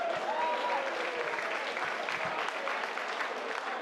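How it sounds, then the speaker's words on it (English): Audience at a cage fight event applauding both fighters after a bout, a dense, steady roar of clapping from a large crowd that fills the whole stretch with little variation. "let's have a big round of applause for both these fighters, please"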